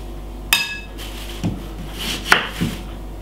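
Spring onion is chopped with a knife on a board: a sharp first knock, then a few scattered, separate cuts at an uneven pace, close by and fairly quiet, with no talking.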